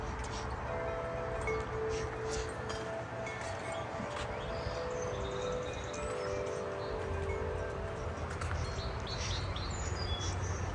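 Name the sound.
song sparrow singing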